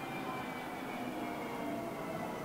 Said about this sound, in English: it's an airplane very close.